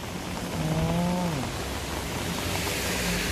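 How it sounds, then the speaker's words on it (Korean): Steady rain falls in the seaside village of Abai in Sokcho, a dense, even hiss filling the scene, briefly joined by a low tonal hum in the foreground. "비가 세지기 시작합니다"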